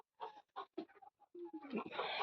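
A hen that wandered in from a neighbouring coop in Denmark clucks in a few short, close bursts, followed by a denser run of calls at the end.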